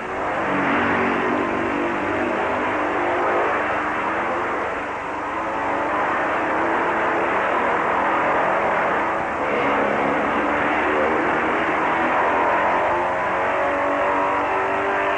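Motorcycles racing through a Main Street curve at the 1958 Catalina Grand Prix, a steady loud engine roar with open throttles that holds for the whole stretch without any voices.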